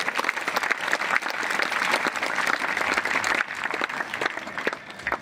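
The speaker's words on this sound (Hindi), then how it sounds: "जोरदार ताली होनी चाहिए" Loud, sustained applause from a large crowd at a Republic Day gathering in Rourkela, dense clapping continuing throughout and easing slightly toward the end.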